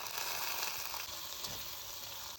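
Chopped ridge gourd hits a hot tempering of mustard seeds, cumin, asafoetida, dried curry leaves and coriander, giving a soft continuous hiss of frying that stays even and faint, with no one speaking.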